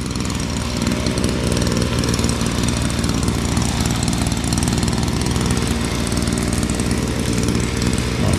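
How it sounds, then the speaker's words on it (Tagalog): A grass cutter engine runs continuously and loudly nearby in a vegetable garden, a steady, dense buzzing drone with no pauses and no voices. "Mabilis pag may grass cutter eh."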